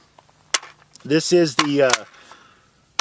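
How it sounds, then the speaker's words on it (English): A PWS piston-driven 300 Blackout pistol with a Silencer Co. Omega 9K suppressor firing S&B subsonic ammunition from a Magpul magazine, giving a few dull, sharp cracks spaced apart around a person talking. "Magpul 300 black mag with the S&B subsonic ammo with the Silencer Co. Omega 9K on the PWS piston driven 300 blackout pistol"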